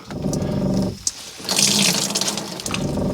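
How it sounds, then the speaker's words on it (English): Water gushes from a low-flow shower nozzle inside a Ram Promaster 3500 Extended van with a Geyser Systems shower, a close, steady spray that briefly dips and then resumes. "You turn on the water, and so it has this little low-flow nozzle in here"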